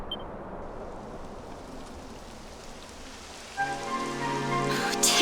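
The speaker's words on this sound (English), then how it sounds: "it would have to go and start raining, wouldn't it?" Rain starts falling in the Dragon Quest XI S video game, a steady soft patter of drops on surfaces, joined near the end by a rising tonal music cue.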